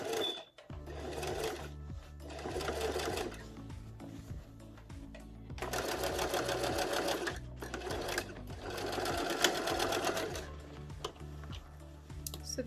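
Sewing machine stitching the seam of an upcycled fabric Christmas stocking, loud close rapid whirring runs in several bursts with brief stops between them as the fabric is turned.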